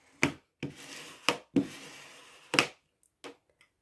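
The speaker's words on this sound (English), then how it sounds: "Give that a good burnish" Tape is burnished down onto card in about six quick, close rubbing strokes, each a short scraping swipe separated by brief pauses.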